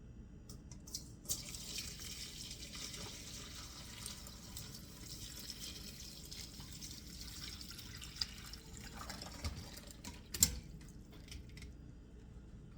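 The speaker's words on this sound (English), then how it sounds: "I am going to strain this broth that it cooked in." Hot chicken broth is strained and pours steadily into a container for several seconds, a soft continuous splashing with occasional drips, fairly quiet and close.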